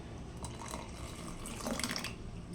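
Water poured into thick strawberry juice in a kitchen, a soft continuous trickling splash under steady background hiss, swelling slightly toward the end.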